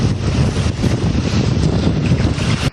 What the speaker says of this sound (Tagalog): Grabe ang lakas ng hangin at talon.